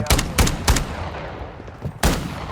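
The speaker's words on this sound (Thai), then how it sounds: "ถ้าโดนไฟฟ้าปุ๊บ นี่คือปืนลั่นทันทีนะฮะ" Several sharp gunshots in the Warzone video game, from a gun fired involuntarily after its holder is hit by an electric shock: three quick close bangs, a pause, then one more shot.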